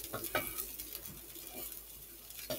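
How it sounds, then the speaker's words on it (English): Soft sizzling of grilled cheese in a pan, quiet and crackly, with a few louder pops and scrapes scattered throughout. "Listen to that sizzle."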